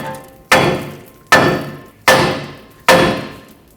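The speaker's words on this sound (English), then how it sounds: "tap the knuckle with a hammer and break these two apart" Four loud metallic hammer strikes on a Chevrolet Colorado steering knuckle, evenly spaced about a second apart, each ringing briefly before fading, with no talking.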